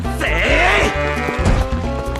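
A goat bleats in Zelda Twilight Princess, one long wavering nasal cry up close, loud and alone, trailing off into a shorter second call.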